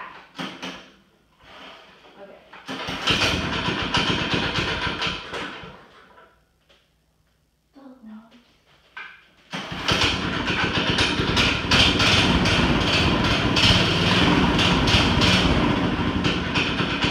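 An engine is started for the first time and settles into a loud, steady idle close by, after an earlier burst of running noise and a quiet gap, with voices heard at points.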